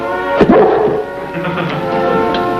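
A dog whimpers and yelps briefly near the start, a short high whine with a yip, close by, then fades into quieter room sound.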